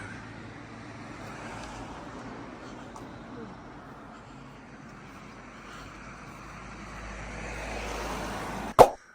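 Steady road traffic and passing buses fill a street in Grindelwald, Switzerland, a continuous broadband rumble that swells toward the end before a sharp, loud thump near the close.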